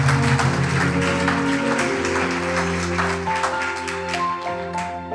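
A church congregation claps loudly and steadily while sustained organ or keyboard chords ring underneath, the applause thinning slightly toward the end.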